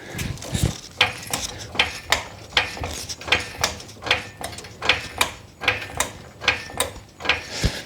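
A Harbor Freight Daytona 4 ton heavy duty floor jack is pumped up in steady strokes, each one a close, crisp burst of metallic ratcheting clicks repeating about twice a second.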